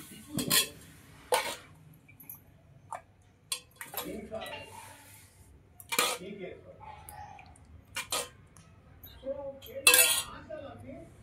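Chapati is packed into a lunch box with intermittent clinks and clatters of metal containers, lids and utensils, sharp and close, spaced out over quiet kitchen sounds with a voice talking in between.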